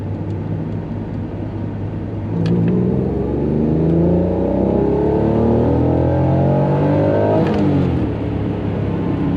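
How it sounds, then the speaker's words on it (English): A 320,000-mile Honda NSX engine revving up through VTEC during a road run, loud and close, the pitch climbing steadily from an idle-like drone into a strong rising rev that peaks and falls back near the end. "It's a full run through VTEC with the new resistor in the loop."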